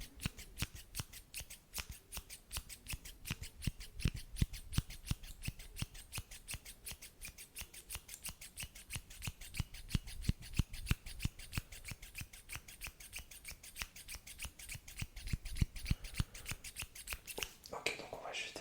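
Close ASMR cutting of hair during a mock face surgery roleplay, a long run of crisp, rhythmic scissor snips, quiet and intimate, continuing steadily throughout.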